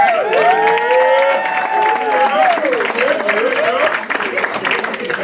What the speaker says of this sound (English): We're going to give one more round of applause again